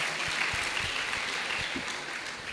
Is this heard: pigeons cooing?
no